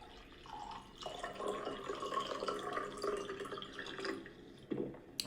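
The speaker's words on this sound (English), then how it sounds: "He pours himself a drink and drinks from it." A drink poured into a small cup, one continuous splashing, trickling pour that runs for several seconds at moderate volume and ends with a couple of faint drips, with no voices.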